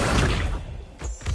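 Accio summoning charm cast in Hogwarts Legacy: a brief broad magical whoosh that fades, then a second soft swell near the end, close and moderately loud with no talking.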